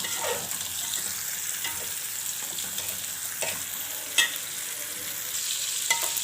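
Fish frying in hot oil in a pan, a steady close sizzle running throughout with a few sharper crackles and pops standing out, no talking.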